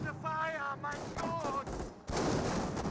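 Distant staccato gunfire, likely an MG42 machine gun, in a Company of Heroes 1 battle, crackling under game noise, then a louder burst near the end, with a voice talking over the first half.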